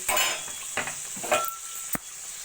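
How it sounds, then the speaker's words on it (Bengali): Spice paste with salt, turmeric and Kashmiri chilli powder frying for a potato dum, a sizzling hiss broken by several scraping stirs of a spoon against the pan. "ভালো করে মশলাটাকে এবার কষিয়ে নেবো"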